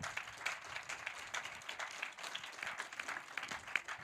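Faint applause from an audience, a continuous patter of many hands clapping at a distance throughout.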